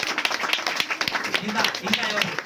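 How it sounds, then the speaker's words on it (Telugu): A church congregation at a deliverance service in Jajpur, Odisha claps fast and loudly, with sharp, dense claps running under a speaking voice. "గట్టిగా చప్పట్లు"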